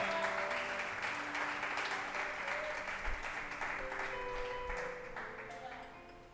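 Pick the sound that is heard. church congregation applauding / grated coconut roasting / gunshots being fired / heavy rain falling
church congregation applauding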